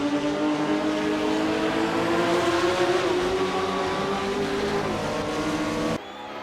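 A pack of 1955 Formula One race cars launches off the line, with a loud, steady engine roar and a rising whine heard up close that cuts off sharply near the end.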